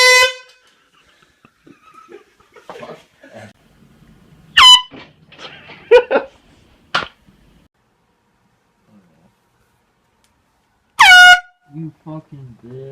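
Air horn blasts from a prank scare setup: a sudden loud blaring honk mid-clip and another long blast near the end, with scattered voices and laughter in between.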